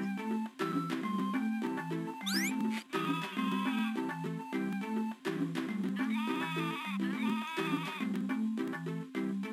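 Sheep bleating in the Game Boy Advance game Sheep, heard over busy, looping chiptune music with bouncy bass notes, with short synthetic calls and game effects recurring throughout.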